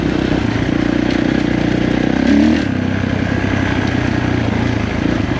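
A 2021 Kawasaki KX450 dirt bike rides a trail, its engine a loud, close, continuous drone with a brief rise in revs midway and wind buffeting throughout, no voices.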